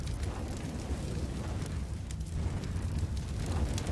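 Molotov fire crackling and roaring steadily in CS:GO during a Kaindorf Games Winter Edition tournament final, a dense continuous burning hiss with low rumble throughout, no talk over it.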